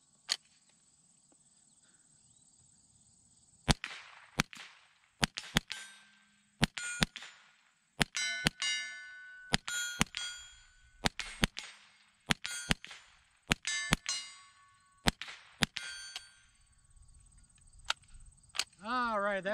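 Pistol fitted with a Pinty 1x20mm red dot sight fires a string of about fifteen sharp, close gunshots at irregular intervals, each a crisp crack with a ringing tail, ending with a brief voice.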